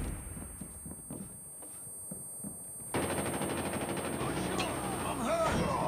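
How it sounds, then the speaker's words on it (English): Hostile sentry gun fire in Call of Duty Mobile: a rapid, continuous automatic burst starts about halfway through and runs loud to the end, after quieter thuds and game noise at the start. "Hostile sentry gun in your AO."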